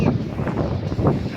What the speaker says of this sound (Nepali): एकदम डेन्जर भयानक हावा चलिरहेको छ हाम्रो यहाँ बुटोल तामनगरमा